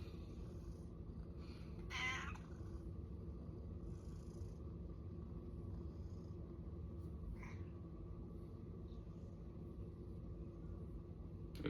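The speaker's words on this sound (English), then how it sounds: "all my other cats is meowing" Cats meow briefly, once near the start and once later, faint and somewhat distant, against a steady low rumbling hum with no talking.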